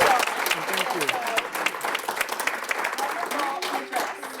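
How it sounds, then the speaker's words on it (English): Audience applauding to thank the speaker after a criminology lecture: a loud, dense burst of clapping from a full room, mixed with cheers and overlapping voices throughout. "give a round of applause to thank you"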